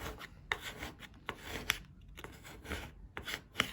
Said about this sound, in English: then you just got to squeegee a little more